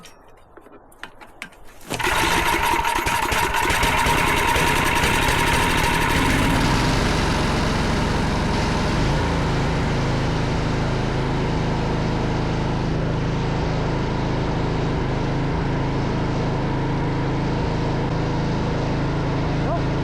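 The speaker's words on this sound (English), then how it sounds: "the auger does work fine" An auger engine starts abruptly and runs at a loud, steady drone, its pitch settling lower partway through; close and continuous with no talking.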